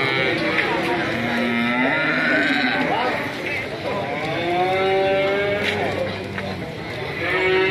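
Cattle at the Ambarketawang cattle market in Indonesia low and moo amid a busy crowd, several drawn-out calls rising over constant chatter and market bustle, with other livestock bleating nearby.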